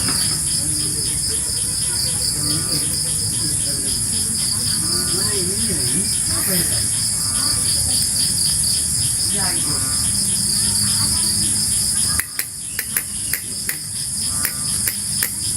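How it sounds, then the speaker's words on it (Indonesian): Crickets and frogs in a forest at night, a dense steady high chirring chorus with croaking and faint cattle-like calls beneath, continuing throughout with a few knocks near the end. "Suara kodok, suara jangkrik."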